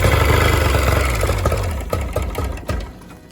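A pontoon boat outboard motor, unused for a couple of years, starts and runs with a loud, close, rapid engine chatter that gradually eases and settles, with a few uneven bursts.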